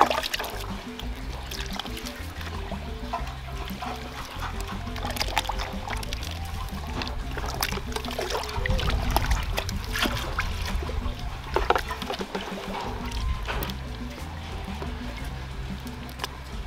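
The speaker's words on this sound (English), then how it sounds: "So you add in water." Water pours steadily into a cooking pot while preparing banku in Ghana, a continuous trickling and splashing stream running throughout with a brief louder surge midway, no talk.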